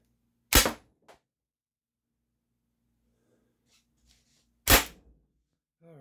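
A Mercury Rise TR50 HPA air gun fires two sharp, close cracks about four seconds apart, each followed by a brief faint rattle, with quiet handling sounds between them.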